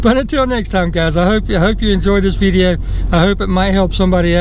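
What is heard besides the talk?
No everyday noise stands out behind the speech.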